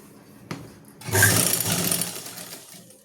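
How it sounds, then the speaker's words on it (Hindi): A sewing machine runs close by, stitching a suit; a brief click comes first, then a steady whirring run of about a second before it slows and fades. "इस तरह से हम यहाँ से सिलाई लगाएंगे।"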